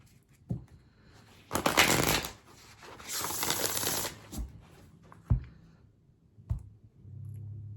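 A tarot deck is riffled and shuffled in two long, close bursts of papery rustle, followed by scattered taps and soft thumps as cards are handled and set down.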